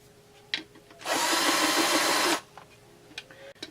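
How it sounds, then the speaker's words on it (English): A deburring tool, used like a center drill, spins against a Husqvarna 394XP/395XP chainsaw clutch cover in a steady, loud whir lasting just over a second, with a few light clicks and knocks before and after. "Just a center drill, or rather a deburring tool."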